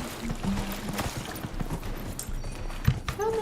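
Horse hooves clopping in the video game Dragon Age Inquisition, a run of muffled irregular thuds over a busy mix of game sounds and watery ambience, with a brief voice near the end.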